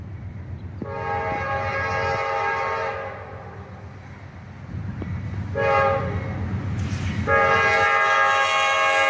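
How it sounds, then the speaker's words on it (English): A northbound Norfolk Southern freight train led by a Dash 9 locomotive sounds its horn in loud sustained blasts over a low rumbling engine, then sounds again, close and alone. "A northbound Norfolk Southern train led by a Dash 9"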